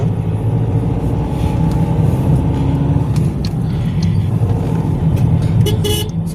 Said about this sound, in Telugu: హారన్ అయితే కొట్టుకుంటూ వెళ్ళమని చెప్తున్నారు ఇక్కడ